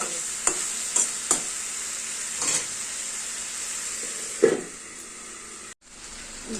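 A spoon scrapes and turns hilsa fish head with potato, pumpkin and greens in a frying pan, several distinct stirring strokes over a continuous close sizzle.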